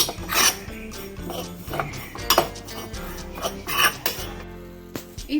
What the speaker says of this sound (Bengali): ভালো করে নাড়িয়ে এইবার আমরা ঢাকাটা দিয়ে দেব।